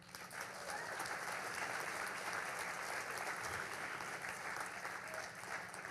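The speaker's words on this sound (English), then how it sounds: "One big round of applause for you." An audience at a literary talk event in Spokane breaks into a long, even round of applause, steady and fairly distant-sounding from start to finish.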